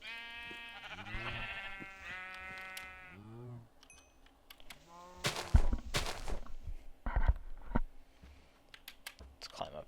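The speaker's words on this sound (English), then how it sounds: "Come here, sheep." Sheep in the Minecraft video game bleat in short repeated calls early on, followed by sharp clicks and keyboard typing, with a voice speaking faintly in between.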